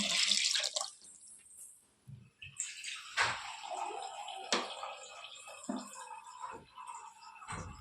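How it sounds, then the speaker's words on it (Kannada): Water poured into a pressure cooker over tomatoes for homemade ketchup: a brief, close splashing pour at the start, followed by quieter drips and scattered clinks from the pot. "ಅದಕ್ಕೆ ಸ್ವಲ್ಪ ನೀರು ಹಾಕ್ಬೇಕು, ಅದು ಮುಳುಗಬೇಕು ಅಷ್ಟೇ."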